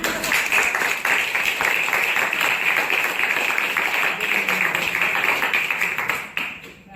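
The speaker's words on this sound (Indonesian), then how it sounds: "kita berikan aplaus" A classroom group applauds together, dense steady clapping that holds for several seconds before tapering off near the end.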